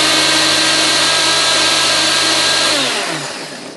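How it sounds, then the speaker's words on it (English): A 30-year-old blender whirs at low speed while mixing a smoothie with water, a steady loud motor drone that begins winding down near the end. "this blender is 30 years old. It's one of the oldest models they have, and it still runs fine"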